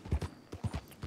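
Horse hooves clip-clop in a steady, even walking rhythm in the video game Red Dead Redemption 2, several close, dull thuds with no other sounds.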